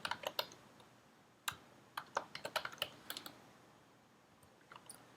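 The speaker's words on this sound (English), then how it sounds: "I'm having trouble typing today." Someone types on a computer keyboard in quiet, irregular bursts of crisp key clicks with short pauses between runs.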